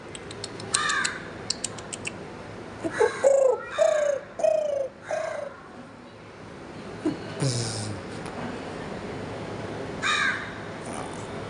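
A crow caws several times in harsh bursts, close and fairly loud, with quieter outdoor background sounds between calls.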